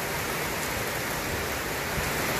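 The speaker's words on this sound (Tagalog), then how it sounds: "Napakalakas ng ulan." Heavy rain pours steadily in a sudden downpour, a dense, loud, unbroken hiss with no voices over it.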